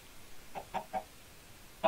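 Chickens in the Minecraft video game give a few short, soft clucks spaced irregularly over quiet background.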